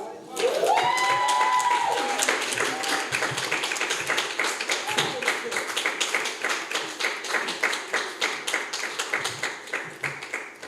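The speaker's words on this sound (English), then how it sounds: "No, you can't stop the applause yet" Sustained audience applause at the close of the sixth annual Stuart Hall lecture: dense, steady clapping from a large crowd that swells at the start and carries on evenly, with a voice speaking over it near the beginning.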